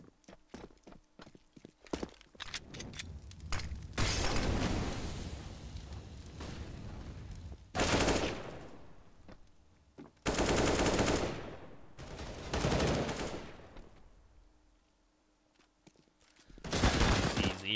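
Counter-Strike: Global Offensive pistol fire on the Cache map during a tournament match: rapid bursts of sharp gunshots cluster early, then heavier loud volleys come in separate bursts with short quiet gaps between them.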